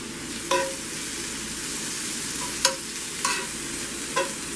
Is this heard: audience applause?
no